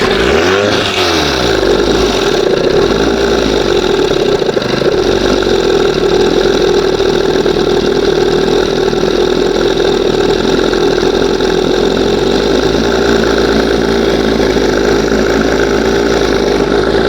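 A 1971 Johnson 20 HP outboard motor, under repair for a spark problem, runs loudly and close after a brief sputtering start, holding a steady buzzing drone for about fifteen seconds with a slight waver in pitch and no voices.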